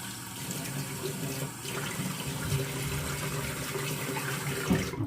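Tap water runs steadily from a faucet to wet the face for shaving, a continuous close hiss and splash lasting throughout with no talking.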